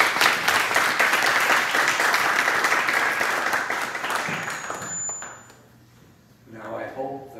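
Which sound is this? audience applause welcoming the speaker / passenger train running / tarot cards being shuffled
audience applause welcoming the speaker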